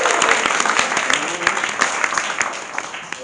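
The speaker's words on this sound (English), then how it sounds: "Can she have some applause, please?" Applause from an audience at a live performance event, a steady, fairly loud rush of many hands clapping for a few seconds, with faint voices mixed in.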